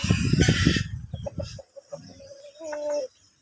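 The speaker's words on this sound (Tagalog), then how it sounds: "Dito yung mga lalaki na mga manok." Rhode Island Red and Basilan crossbreed roosters cluck loudly up close in a busy burst on a farm, then scattered clucks follow and a rooster lets out a short crow at the end.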